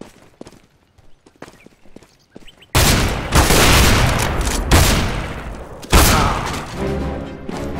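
Counter-Strike: Global Offensive gunfire: a few faint clicks, then a loud sustained burst of rapid shots with heavy booming impacts, a short lull and another loud volley.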